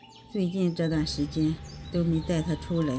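Birds chirp outdoors on a fresh morning walk, a run of bright repeated tweets close by, while a person speaks quietly over them.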